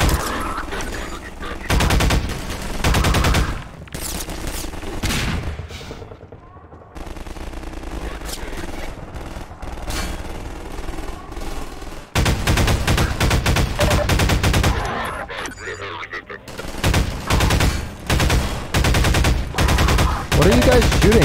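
Rapid bursts of gunfire from Half-Life 2 with RTX, loud and dense, repeating through most of the stretch with brief lulls between volleys and a voice now and then underneath.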